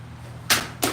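A katana slices through a practice mat during live cutting, two sharp airy whooshes close together and loud, each a quick swish with a short rushing tail over a low steady background hum.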